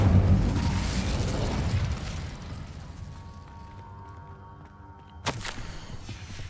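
Incendio fire spell cast in Hogwarts Legacy, a loud fiery burst that fades into a low rumble, followed by a sharp crack and whoosh near the end, with no talk.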